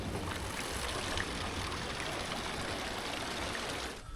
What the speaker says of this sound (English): There's a nice river just flowing all the way around the cathedral.